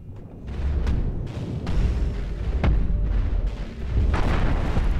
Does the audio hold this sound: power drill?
no